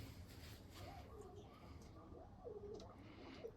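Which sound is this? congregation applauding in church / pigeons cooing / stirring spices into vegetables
pigeons cooing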